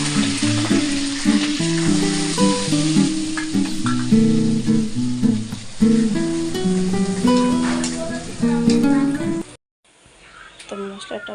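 Ground mustard and poppy seed paste with green chilies fries steadily in a pan for mustard hilsa, a continuous sizzle under layered background music that cuts out near the end.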